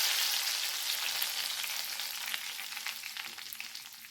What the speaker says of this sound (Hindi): अब इस तड़के को हम डालेंगे दाल के ऊपर।